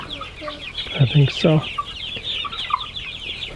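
Meat chickens, broilers soon to reach three to four pounds, cluck and chirp close by in a busy flock, with a short burst of louder clucks midway and a brief spoken reply over them.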